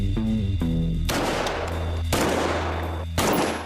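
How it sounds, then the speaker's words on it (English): Rapid gunfire from a digital-sight weapon fired from the hip, loud repeated blasts in two or three bursts with heavy echoing tails and no talking. "click, and now I'm firing from the hip"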